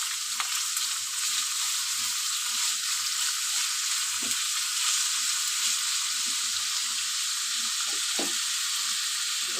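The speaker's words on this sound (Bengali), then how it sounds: "আলু ভাজাটা দিয়ে দিলাম।" Sliced potatoes frying in a pan, a steady close hiss of hot oil with scattered light crackles and a few soft stirring knocks, even and sustained without talk.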